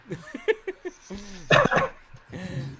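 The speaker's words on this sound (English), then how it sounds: "then I still hear the dog do something" A dog gives several short, sharp barks and yips in quick succession, followed by a louder burst of vocal sound, with people talking around it.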